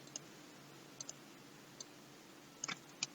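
Faint, sharp computer keyboard key presses, including F4, click sporadically against a quiet hiss, with a few single taps and a quick double tap toward the end.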